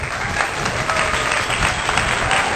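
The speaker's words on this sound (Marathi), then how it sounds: "त्यांच्यासाठी टाळ्या होऊन जाऊ द्या" An audience claps loudly and continuously at a live stage event, a dense, sustained wash of hands from start to finish.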